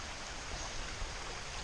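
A small stream feeding into the Red River in Red River Gorge rushes steadily in the rain, a continuous close hiss of flowing water with no voices.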